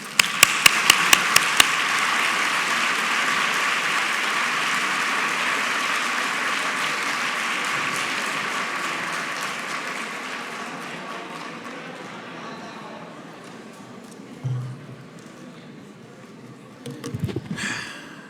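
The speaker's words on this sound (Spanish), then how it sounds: "un muy fuerte aplauso" Strong, sustained applause from a conference audience fills the room, opening with a few sharp claps before settling into a dense wash that slowly fades, with a couple of brief bumps near the end.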